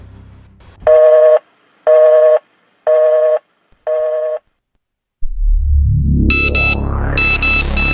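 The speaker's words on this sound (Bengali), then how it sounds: "ভাই আপনি রুমেতে এই ফোনটা বাজিচ্ছিল" An unfamiliar handset rings in a room: four evenly spaced electronic tone bursts, a short pause, then a loud rising sweep with shrill high chirps layered over it.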